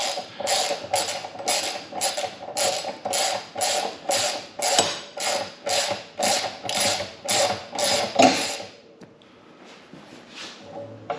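A saddle bag rack bracket bolt being tightened on a motorcycle: a steady run of about a dozen rhythmic ratchet clicks up close, each burst evenly spaced, then stopping and leaving quiet room noise.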